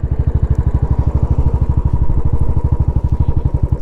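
Royal Enfield Classic 500 single-cylinder engine fitted with a BSA muffler, a loud close steady thumping exhaust beat with even rapid pulses throughout and no talk.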